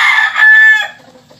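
A young fighting rooster (stag) gives a loud, close crow that trails off into a short cluck, heard alone.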